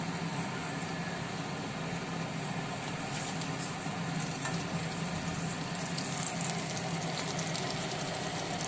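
Moong dal pakoras frying in hot oil, a steady, loud, continuous sizzle with a dense crackling hiss throughout and no voices.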